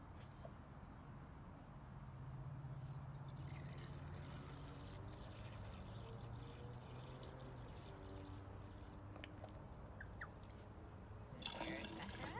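Hydrogen peroxide is poured into a cup, a steady liquid trickle and splash with slowly shifting tone as the cup fills, continuous and close, ending with a brighter burst of splashing.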